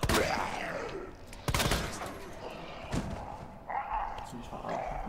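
Sharp gunshot bursts in Resident Evil 2 crack out at irregular intervals in the sewers, some in quick clusters, with voices mixed in between the shots.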